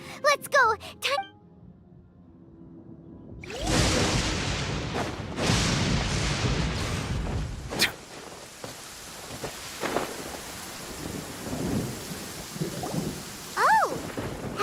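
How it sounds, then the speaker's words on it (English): A thunderstorm in a video game set in Sumeru, with heavy rain hissing steadily after a brief quiet start, punctuated by deep thunder booms and cracks, while game voices talk over the storm. "Paimon hears thunder!"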